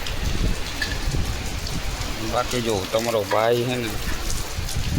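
Steady heavy rain pours down in a continuous hiss while someone speaks over it close by.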